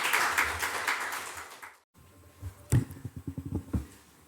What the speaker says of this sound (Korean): 우리 환영의 박수로 모셔드리도록 하겠습니다